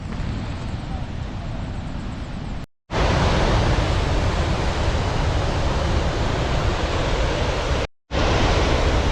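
Loud, continuous roar of rushing muddy floodwater where a tunnel outflow and the Kattappana river meet near the Idukki reservoir in heavy rain, broadband and unbroken, with two brief dropouts of silence.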